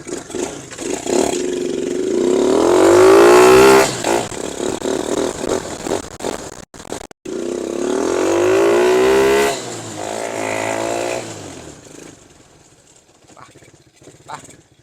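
A manual-gear ATV engine revs loudly and close by in two long surges, rising and falling in pitch, then settles to a lower, fading idle among coconut groves.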